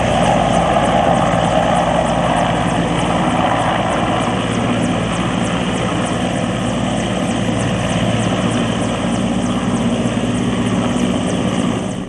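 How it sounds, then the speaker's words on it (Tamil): Military helicopters land at a rehearsal helipad, their rotors and engines roaring loudly and steadily throughout, close and with no break. "அதில் ராணுவ ஹெலிகாப்டர்கள் தரையிறக்கம் செய்து ஒத்திகை நடைபெற்றது"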